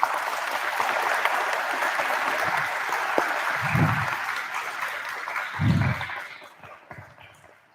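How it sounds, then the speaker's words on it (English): An audience at a high school choir event claps briefly for choir students, a soft, even patter of hands that fades out toward the end, with a few low thumps. "give them an applause"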